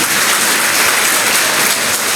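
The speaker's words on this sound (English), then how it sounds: "please give a huge round of applause to Dr." A conference audience bursts into sustained applause, dense clapping from a sizable crowd filling the room evenly for a couple of seconds.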